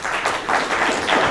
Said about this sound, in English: let's welcome our guest speakers with a round of applause